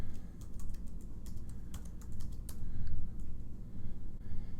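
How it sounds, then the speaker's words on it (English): Steady typing on a computer keyboard while entering an email address and password for Outlook setup, a continuous run of quick, close key clicks with brief pauses. "Type in your email address. Type in your password."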